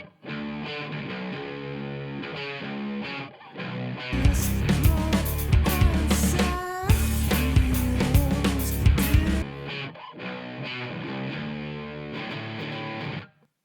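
Distorted overdrive electric guitar through an overdrive pedal running in stereo, playing chords and riffs, thick and saturated, growing louder and denser in the middle section before easing back.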